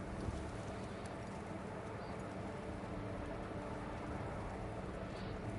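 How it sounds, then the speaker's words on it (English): Hooves clip-clop steadily as a horse is led on foot at walking pace in a video game, a continuous, even patter of footfalls heard alone with no talk. "I'm walking the horse."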